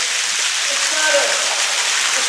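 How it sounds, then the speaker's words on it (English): An artificial waterfall fed by pumped water makes a steady, bright rushing hiss throughout, close and fairly loud, with faint voice traces mixed in. "I mean, that's not a real waterfall."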